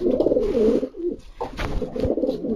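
Close, throaty cooing from a racing pigeon rolls out in repeated low, burbling phrases, with a short pause and a few rustles in between.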